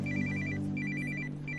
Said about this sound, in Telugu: Father phone ring.